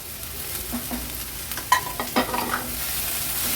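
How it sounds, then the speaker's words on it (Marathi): Finely chopped leafy greens stir-fried with onion in a pan over a high flame: a steady, close sizzle with several scraping stirs of a spatula clustered midway, no talking. "भाजी ही आपण छान हाय फ्लेमवरच कांद्यासोबत परतून घेतली आहे"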